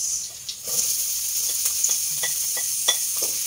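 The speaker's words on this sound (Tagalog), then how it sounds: "ang sunod natin gigisa ay bawang" Garlic and onion sizzle steadily in hot oil, sautéed as the base for pork tocino, with a constant close frying hiss broken by a few soft stirring scrapes.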